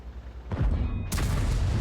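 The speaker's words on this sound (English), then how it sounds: "Nice shot into the Skoda's lower plate" A tank cannon fires in World of Tanks, a sudden heavy boom followed by a short rumbling tail and a second sharp blast moments later, both loud and close.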